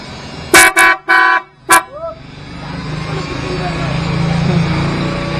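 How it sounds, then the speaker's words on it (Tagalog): A car horn, wired through relays and fuses, honks in four short, loud blasts close by, then a quieter vehicle rumble continues with faint background sounds. "Yung busina niya, mga naka-relay yan,"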